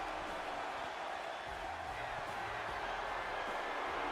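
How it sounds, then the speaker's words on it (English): Wrestling crowd in WWE 2K25 jeering a heel after his win over the fan favourite, a steady dense roar of voices filling the whole stretch at moderate level, with no clear individual words standing out. "This crowd is not very happy with Gunther after beating Cody Rhodes."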